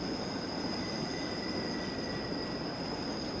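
A train runs along the Albula Line in the video game Train Simulator 2016, giving a steady, loud rolling rumble with a high wheel squeal throughout and no talking.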